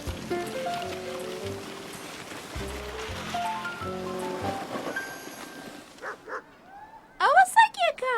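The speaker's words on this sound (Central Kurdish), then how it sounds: "ئەوە سەگێکە." A cartoon dog gives a few short, bright barks and yips near the end, clear and close, after a passage of background music and tones.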